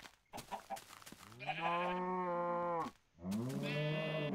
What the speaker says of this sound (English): The sheep are getting up too!